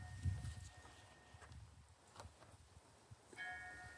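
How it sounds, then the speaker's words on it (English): A harbor bell rings faintly in the distance on a windy day, its thin sustained tones surfacing briefly near the start and again toward the end over gusty outdoor noise and soft rustling. "if you hear a bell, that is the harbor bell in the back"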